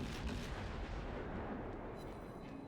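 Ship guns shelling in World of Warships, with a Gnevny destroyer firing on the St. Louis: a continuous, loud, booming rumble of naval gunfire that fades slightly toward the end.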